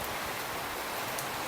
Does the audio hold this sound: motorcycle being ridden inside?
no